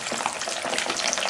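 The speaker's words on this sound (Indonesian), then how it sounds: "Kita goreng sampai nanti warnanya kecoklatan kayak gini ya" Boiled beef lung frying in hot oil in a wok, a steady dense sizzle and crackle filling the whole moment at close range with no talking.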